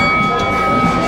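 A steady low rumble with a constant high whine, heard from inside an enclosed car of the Scenic World steep railway in the Blue Mountains.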